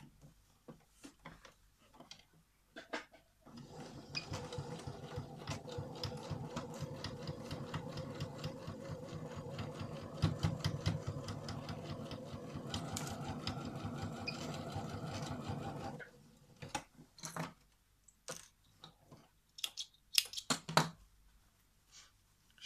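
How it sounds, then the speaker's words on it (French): A sewing machine stitches a long straight seam along a rectangular fabric pencil case, with a steady, fast, close mechanical whir of about twelve seconds between brief handling clicks and rustles at each end. "Et je vais venir coudre à 1 cm tout le long."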